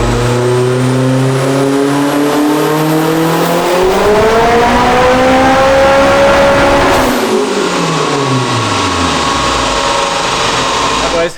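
A turbocharged Acura RSX, front-wheel drive, runs a 4th-gear pull on a dyno, its engine screaming loudly as revs climb steadily, then cutting off and winding down near the end.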